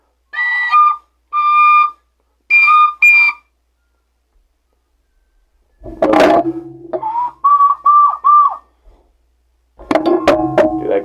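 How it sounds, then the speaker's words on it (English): Penny whistle overblown into its second octave, playing three short sustained high notes in separate bursts, then a noisier breathy stretch followed by more high held tones and a final burst, loud and close with no talking. "if you use that same breath pressure on a penny whistle, you'll get the second octave"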